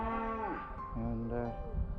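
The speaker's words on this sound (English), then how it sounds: "So these are the cows we saw yesterday, making a lot of noise today." Several cows moo in a grassy field at Haweswater near Silverdale, long loud lowing calls overlapping one after another, close by and continuous with no talk.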